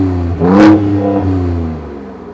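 A 2023 Ford Ranger Raptor engine in Baja mode is revved once, rising sharply to a loud, rasping peak and then settling back to a deep idle rumble, heard close with no talking.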